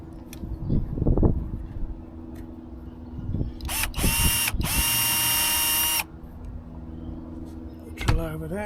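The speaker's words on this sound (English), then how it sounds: "Get the drill out." A power drill runs in bursts outdoors during gauge one garden railway track repair, a loud steady whine lasting a couple of seconds with a short rev near the end, amid clunks and handling noises.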